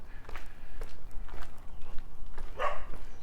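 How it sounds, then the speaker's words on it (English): Dogs bark down a residential alley in Regina on a cloudy day, a few scattered yaps at moderate distance, the clearest one near the end, over footsteps and the hiss of walking outdoors. "Dogs hate it when you walk down the alley."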